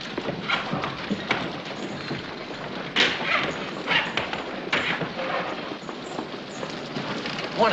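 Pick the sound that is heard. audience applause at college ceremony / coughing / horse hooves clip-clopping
horse hooves clip-clopping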